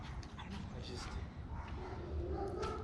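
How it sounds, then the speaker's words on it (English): Several dogs barking and howling in the distance, faint and mixed, under a nearby voice talking in a noisy setting. "there's some dogs barking right now"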